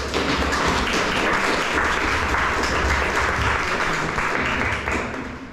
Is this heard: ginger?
no